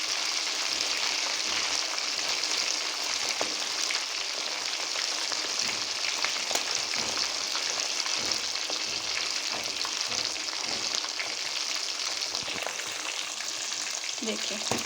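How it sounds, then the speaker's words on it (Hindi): Chicken pieces frying in a pan for a steam roast, a dense, even hiss of sizzling oil with fine crackles, close and continuous, without talk. "2 मिनट एक साइड पकाएंगे और 2 मिनट से एक साइड से फ्राई करेंगे हम।"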